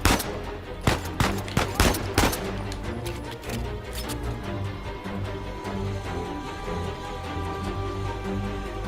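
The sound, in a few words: gunfire from video game Uncharted 4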